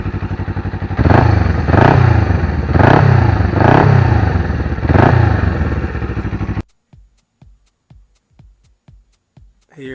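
A 1981 Suzuki GS 250 motorcycle engine runs loud and close, surging in steady rhythmic pulses about once a second, then cuts out abruptly and leaves a string of faint ticks and clatters.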